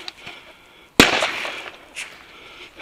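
An airsoft frag grenade goes off at an outdoor skirmish, a single sharp, loud bang about a second in, followed by fading crackle and rustling.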